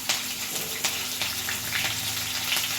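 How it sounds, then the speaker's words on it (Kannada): Chopped green chillies sizzle in hot tempering oil for palak paneer, a steady crackling fry with a few sharper spatters, close and fairly quiet. "ಇದನ್ನು ಒಗ್ಗರಣೆಯಲ್ಲಿ ಹಾಕ್ಕೊಂಡೆ"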